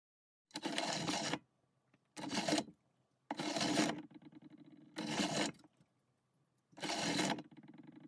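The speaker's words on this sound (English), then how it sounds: "if you didn't want to mix by hand, you can always use your pasta machine" Polymer clay being fed through a pasta machine for colour mixing, heard as five separate bursts of cranking and rolling with short quiet gaps between them, close and fairly loud.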